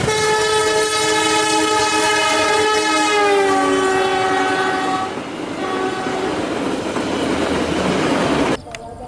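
A train horn blares loudly with sustained tones as the Malabar passenger train with new stainless steel carriages rumbles past up close in Indonesia, wheels clattering steadily, before the noise drops off near the end.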